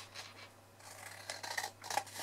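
Scissors snip through card while making a vase gift box, a few short quiet cuts spaced out over a soft background.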